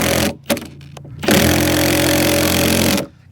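A power tool loudly drives lag bolts into a board while a mailbox is being installed, a steady whirring drone that cuts in and out twice at first before running continuously, then stopping.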